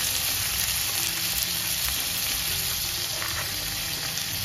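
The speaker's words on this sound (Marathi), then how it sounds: "2 हिरव्या मिरच्या टाकायच्या आणि जरा परतून घ्यायचं चांगलं मस्त" Green chillies and tomato are sautéed in a pan for a mushroom paneer masala, a loud, dense and unbroken frying sizzle heard up close, steady throughout with faint stirring and no voices.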